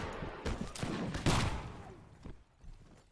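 Musket volleys exchanged between opposing gun lines in a Mount and Blade Napoleonic-style battle, several sharp crackling bursts of massed fire at mid distance, overlapping and fading toward the end.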